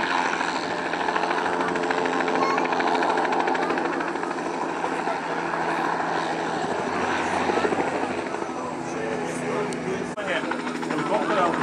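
A helicopter performs spins around its own axis at the Zemunik air show, its loud, steady rotor and engine roar filling the whole stretch while an announcer talks over it.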